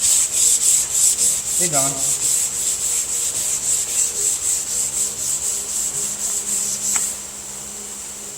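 A longboard sanding block rubs back and forth across a muscle car's body panel in steady, rhythmic strokes, close and even, with a brief spoken phrase partway through.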